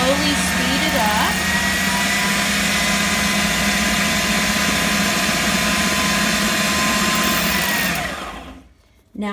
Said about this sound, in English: I'm just going to turn it on very slowly and let it start blending or mixing. And I'll slowly speed it up.